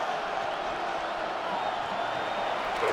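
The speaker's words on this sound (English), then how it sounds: "The crowd at Arrowhead roaring." Stadium crowd at Arrowhead roaring in the Madden 26 football game, a broad sustained wash of noise with faint cheers and whoops, heard up close.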